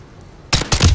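Loud game gunfire from Mortal Kombat 1 or the MW3 campaign bursts in halfway through after near silence, a rapid cluster of sharp shots and thuds close up.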